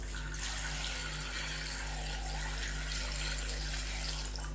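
Water from a tap pours steadily into a wok holding fresh lasoda (gunda) fruits, a continuous close splashing flow with an underlying low hum, no talk.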